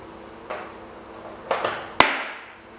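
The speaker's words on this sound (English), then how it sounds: "the fork in this case has just dropped out" A bicycle fork drops out of the frame during a threadless headset service, giving a few sharp metallic knocks and clanks, the last one loudest with a brief ringing tail, close by and without talk.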